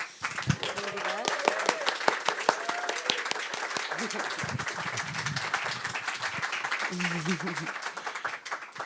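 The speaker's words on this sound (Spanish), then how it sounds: "Les pido un aplauso." Audience applause for the panelists after a panel discussion on ancestral technologies, steady clapping throughout with voices talking underneath in places.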